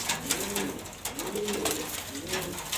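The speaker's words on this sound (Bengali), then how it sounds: "এই দুইটা কবুতর দেখতে পারতেছেন" Pigeons coo softly in repeated low rolling calls, three in a row, over a steady background of hiss and faint noise.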